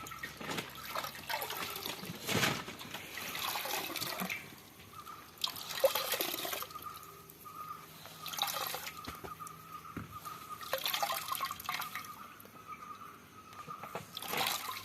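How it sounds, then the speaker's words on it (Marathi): A cotton t-shirt soaked in alum water is wrung out by hand: close, wet dripping and trickling that comes in repeated splashing surges over about fifteen seconds. "एक तास मी तुरटीमध्ये भिजवलेलं हे टी शर्ट आहे ते आता घेणार आहे थोडस पिळून घेणार आहे"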